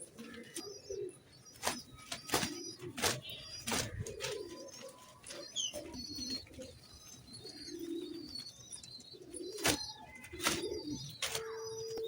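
Pigeons coo softly at a pigeon flight club, low burbling calls scattered among sharp wingbeat claps and small chirps, steady outdoor background throughout.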